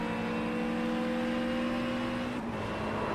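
A GT3 race car engine drones steadily in sim racing at Watkins Glen, its pitch holding then dropping sharply as the car lets go, a continuous mechanical whine with no talk over it.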